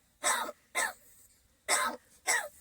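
Four rough, hoarse coughing sounds from a crow in two pairs, close and loud, with short silences between them and no talking.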